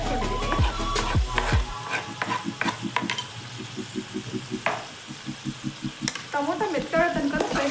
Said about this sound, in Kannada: ಟೊಮೊಟೊ ಮೆತ್ತಗಳ ತನಕ ಫ್ರೈ ಮಾಡ್ಕೋಬೇಕು.